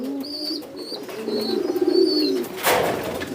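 A dove or pigeon held in the hand, cooing softly and close up in a low, repeated, murmuring rhythm, with a faint higher chirp now and then.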